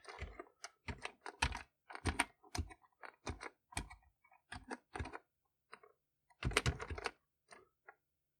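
Fingers tap out bursts of quick, clicky keystrokes on the keyboard of a VTech PreComputer 1000 toy computer, with short pauses between runs and no voices.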